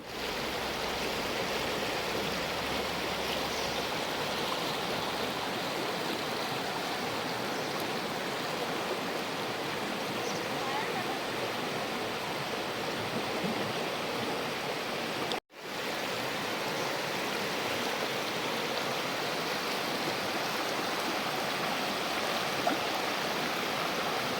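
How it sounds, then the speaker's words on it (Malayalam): A river flows briskly over stones near a forest homestead, a steady broadband rush of running water that holds unbroken for the whole span apart from one brief dropout, with no voices. "നമ്മൾ പെട്ടെന്ന് നോക്കുമ്പോൾ അധികം വെള്ളമില്ലെന്ന് തോന്നിയാലും നല്ല ഒഴുക്കുമുണ്ട്"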